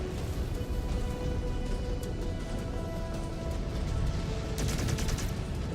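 Missile volleys launched at a Longsword bomber in MechWarrior 5: Clans, a dense, continuous roar of rapid fire and explosions with a brighter burst of launches near the end, loud throughout.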